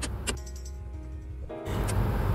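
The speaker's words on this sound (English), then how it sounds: "As you can see, the car start normally and the red color battery warning light was off." A Mercedes S400 Hybrid, repaired after a battery warning fault by replacing its PE unit, starts up: a brief electric whine gives way to a sudden broad engine rumble near the end.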